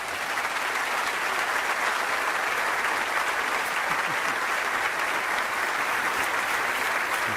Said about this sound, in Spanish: yo quiero que le den a él un aplauso que merece un gran hombre de Dios, Pastor John MacArthur